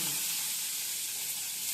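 Green chillies hit hot oil for a tempering in a home kitchen, giving a continuous, moderately loud, bright sizzling hiss that stays even for the whole short stretch, with no voices.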